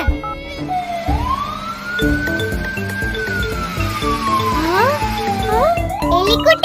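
A toy ambulance siren in children's play wails in one long tone that rises and then slowly falls, followed by quicker rising whoops, over a steady backing of other sounds.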